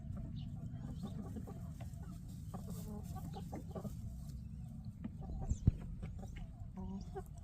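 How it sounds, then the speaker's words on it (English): Hens clucking softly inside a backyard chicken coop in a summer garden, a steady low murmur of several birds with occasional louder squawks, heard at close range. "they've created a line of chickens trying to get a look out this first thing"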